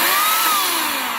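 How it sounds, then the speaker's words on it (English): A Titan 2000W electric chainsaw runs loud and close while chopping logs, a high steady buzzing whine that slowly drops in pitch as it bogs into the wood. "Titan chainsaw from Screwfix."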